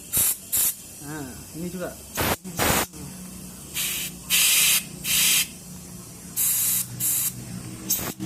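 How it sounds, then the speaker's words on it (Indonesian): Bursts of compressed air hiss loudly in repeated short sprays while cleaning the carburetor of a Honda Vario motorcycle, with someone talking briefly between them. "Caranya menggunakan kompresor teman-teman, seperti ini ya, seperti ini. Kita semprot aja bagian sini."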